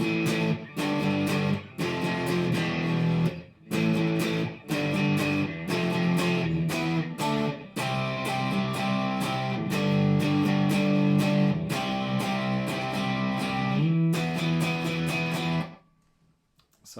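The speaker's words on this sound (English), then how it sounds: "Now our verse is going to use similar power chords." Distorted electric guitar chugs through power chords of the verse, driving and loud with short gaps between phrases, then rings out and fades to near silence at the end.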